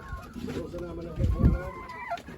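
Laying hens in a coop cluck close by in short repeated calls, with a person speaking over them.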